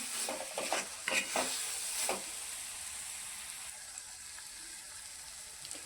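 Ground sesame-and-peanut powder is stirred into tomato chutney in a pan, a few quick scraping strokes at the start giving way to a steady soft sizzle, close by with no talk.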